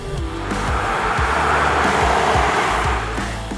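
A 2022 Jeep Grand Cherokee with a turbocharged engine accelerates, a steady loud engine drone with a broad rushing whoosh that swells and eases over a few seconds, heard from inside the cabin.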